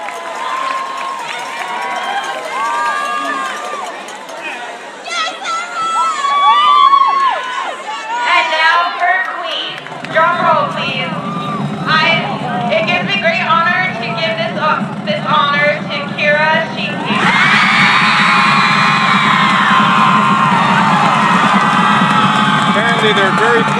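Crowd noise at a high school homecoming football game at halftime: chatter and shouts over a running commentary voice at first, then a broad, steady roar of cheering swells and holds near the end.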